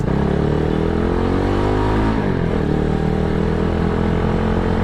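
Motorcycle engine with a newly fitted exhaust pipe and muffler, likely a Yamaha Mio-type scooter, recorded while riding with the helmet visor open; a steady, loud, throaty drone with a brief dip in revs midway, wind noise underneath.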